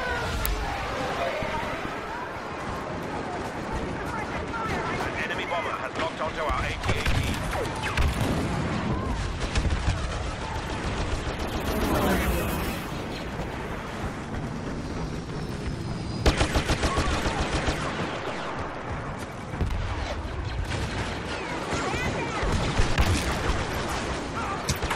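Rapid gunfire and blaster-like shots rattle continuously through a Star Wars Battlefront battle as turrets are destroyed, with dense explosions and booms layered over players chatting throughout.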